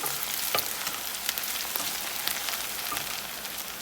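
Onions frying in a pan until golden brown, a steady close sizzle with occasional stirring scrapes and light clicks throughout, no voices.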